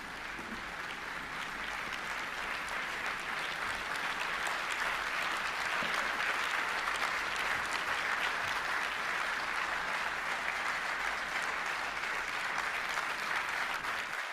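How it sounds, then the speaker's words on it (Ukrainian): At a security forum in Warsaw, an audience applauds after a speech, a continuous, even roar of many hands clapping that holds steady at moderate distance for about fourteen seconds and cuts off at the end. "Я сподіваюся, ви почули ці оплески на рахунок ваших слів"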